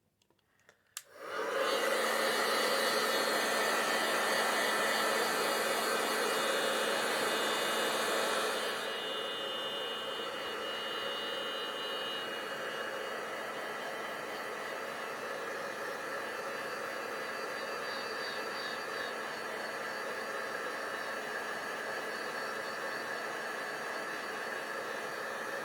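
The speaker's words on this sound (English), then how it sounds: "I'm going to put my heat tool on" A handheld craft heat tool blasts steadily at close range, drying wet ink on a small pillow box, a loud continuous whooshing hum that drops slightly in intensity partway through and then holds steady.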